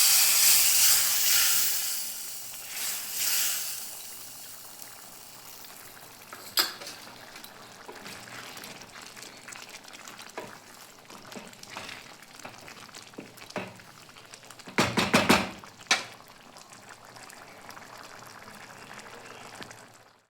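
Hot tadka of oil and Kashmiri chili powder hits chana dal with a steady sizzling hiss, a sharp louder splutter near the middle, then continuing fizz and bubbling throughout with no talk.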